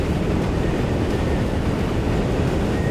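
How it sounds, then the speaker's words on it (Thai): Strong wind roars across the rider on a Triumph Scrambler 400 XC motorcycle, a loud, steady, unbroken rush of buffeting noise with no talking. "โอ้วันนี้ลมแรงนะ"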